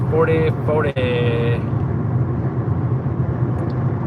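A car driving along a road, heard from inside as a steady low engine and road rumble, with a brief honk near the start and someone speaking over it.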